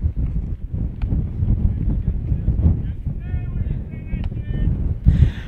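Strong south-southeast wind gusting to about 35 buffets an outdoor microphone at a baseball game in Haysville, a dense, continuous low rumble with a few brief ticks and faint tones above it.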